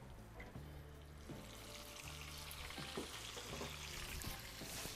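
A freshly flipped homemade volcano burger patty sizzles steadily in a pan, a soft continuous crackle and hiss with faint kitchen clatter and a low hum underneath.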